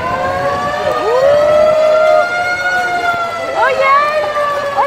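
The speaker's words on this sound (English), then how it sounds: "It's a siren, yeah, the fire's going on." Loud wailing fire engine sirens at a Fourth of July parade rise and fall in overlapping tones, sustained and close, with several sirens sweeping at once.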